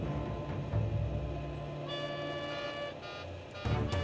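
Cockpit takeoff warning alarm on a LAPA airliner's voice recorder during its takeoff roll, a repeated electronic tone sounding over a steady engine rumble, captured faintly and sounding through to the end.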